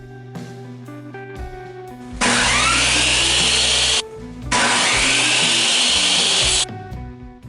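A table saw cuts plywood in two loud, dense passes of a few seconds each, separated by a short gap, with the motor hum under them before and after; nobody speaks.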